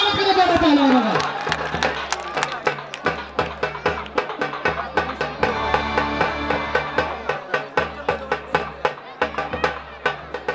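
A crowd at a dangal wrestling event claps and cheers to welcome the wrestlers, with a dense run of rhythmic applause under a loudspeaker voice and music throughout.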